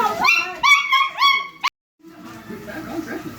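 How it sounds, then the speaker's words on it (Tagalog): Dogs give high whining yips and howl-like whimpers in quick bursts close by, then after a brief silence lower, softer woofing and grumbling continues. "Uy, mga aso."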